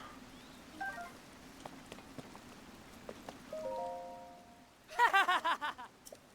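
Steady, faint rainfall in Zelda: Tears of the Kingdom drizzles throughout, with scattered soft game chimes and tones on top and a louder burst of bright, rhythmic game effects near the end.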